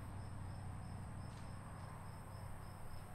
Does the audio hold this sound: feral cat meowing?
no